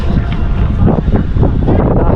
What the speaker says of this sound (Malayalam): ഭയങ്കര കാറ്റാട്ടോ ഇവിടെ